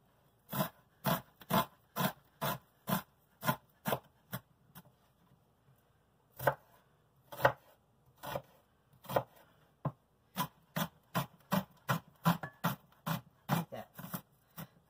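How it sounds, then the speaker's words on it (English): A small onion is chopped finely with a knife on a board, a close run of sharp, rapid, evenly spaced cuts in bursts with short pauses, no voices. "I'm going to chop it up real fine"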